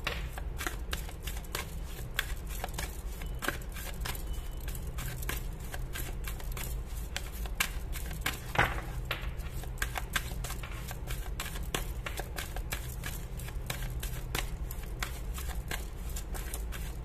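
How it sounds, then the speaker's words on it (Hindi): Tarot cards being shuffled and drawn for a reading make a steady, close run of quick papery flicks and snaps that repeats rhythmically throughout, with no talking over it. "और सारे कार्ड्स तो मैं निकाल ही रही हूँ"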